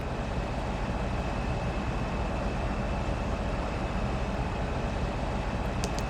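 A train in the Farming Simulator 15 video game rumbles as a steady, dense, continuous roar with no breaks, loud throughout, with no voices over it.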